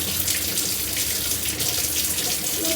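Tap water runs hard into a sink while being heated for fabric dyeing, a loud, steady broadband rush with a faint tone creeping in near the end.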